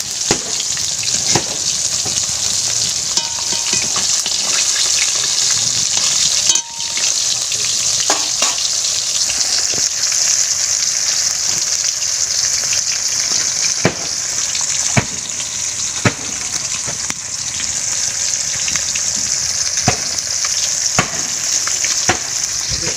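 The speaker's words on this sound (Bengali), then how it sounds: "এই যেখানে মাছ ভাজা হচ্ছে" Cut fish fries in a pan with a loud, steady close-up sizzle, broken by occasional clicks and light knocks as the pieces shift in the oil, with no voices.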